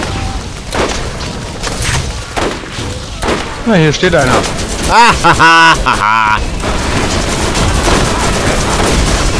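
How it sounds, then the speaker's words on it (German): Loud booms and gunfire-like bursts erupt in a chaotic cluster amid Borderlands game effects, with someone talking over the noise. "Explosionen, mehr Explosionen!"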